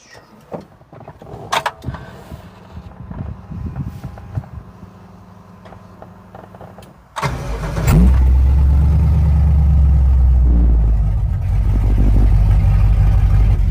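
A classic truck engine cranks and catches at about seven seconds, then settles into a loud, steady low rumble that swells briefly as it revs, after quieter handling noises before the start.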